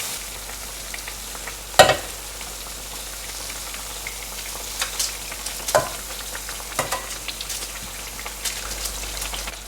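Adhirasam fry in hot oil with a steady fine crackle, broken by a few sharper knocks and scrapes as a ladle turns them over. The sound is close and continuous, with no talking.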